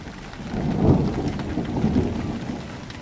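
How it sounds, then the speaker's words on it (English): Hailstorm with thunder: a deep rolling thunder rumble swells near the start and again later, over a steady broadband patter of falling hail and rain. "The hail's been hailing for last 5 minutes."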